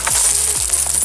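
Thousands of old coins, mostly 1961 and 1992 issues, clatter and jingle together continuously as they are poured and shifted, a dense close metallic rattle with no talking.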